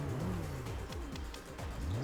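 Ford Puma cars racing in the Ford Racing video game, a steady engine whine rising and falling through gear changes, loud and continuous with no talk.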